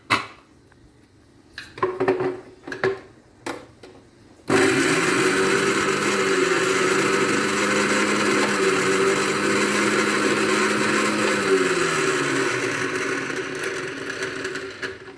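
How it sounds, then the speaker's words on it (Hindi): An electric grinder blends masala spices for achar gosht, starting abruptly after a few knocks and clatters and then running as a loud, steady whir for about ten seconds before slowing down. "अब हम इस सब को जो है वो ग्राइंड कर लेंगे और मसाला तैयार कर लेंगे"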